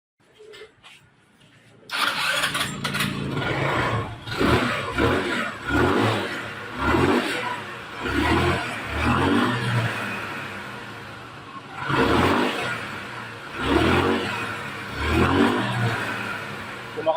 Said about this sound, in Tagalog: pwede na natin paandarin yung motor